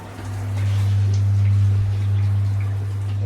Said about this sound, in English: this is GROHE shower